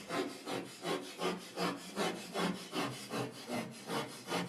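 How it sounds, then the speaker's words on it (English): A sharp, pointed drywall saw cuts through a drywall panel in steady back-and-forth strokes, about ten even rasping pulses, close and continuous. "we'll use a drywall saw, a very sharp pointed saw made for plunging into drywall"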